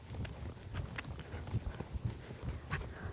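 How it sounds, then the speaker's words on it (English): A horse lopes on soft ground, its hooves beating a steady three-beat clip-clop that stays close and even throughout, with no talk. "I'm just going to lope him around"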